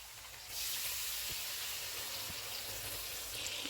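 Whisked yogurt hits hot oil and browned chicken in a karahi for black pepper chicken karahi, setting off a loud, steady, close sizzling hiss that starts abruptly after a short quiet moment and holds without pause.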